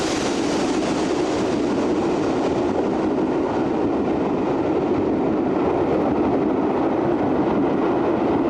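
An express steam locomotive based at the Didcot shed of the Great Western Society runs past with a loud, continuous rushing roar and a rumbling undertone that stays steady and close, with no talking.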